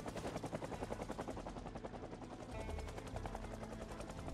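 A helicopter flies over in the zombie survival game Project Zomboid, its rotor giving a steady, rapid thumping chop that stays fairly loud and continuous throughout, with no talking.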